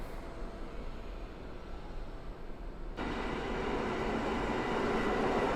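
An electric Elf train at Warszawa Główna station gives a steady, fairly faint rumble and hiss that swells slightly partway through, with no talk.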